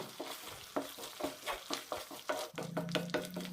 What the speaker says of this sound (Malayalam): മസാലപ്പൊടികൾ ഇട്ട ശേഷം നന്നായി റോസ്റ്റ് ചെയ്തെടുക്കണം